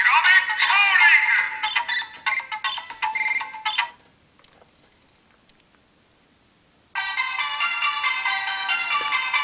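Electronic ringtone-style calling melody from a Kiramei Changer transformation brace toy in communication mode, bright and loud for about four seconds, a pause of near silence, then ringing again to the end.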